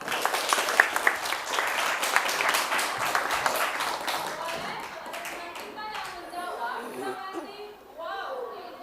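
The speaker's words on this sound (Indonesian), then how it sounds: "Berikan tepuk tangan yang meriah." Classroom students clap together in a dense burst of applause that fades over several seconds, with lively chatter and children's voices mixed in as the clapping thins out.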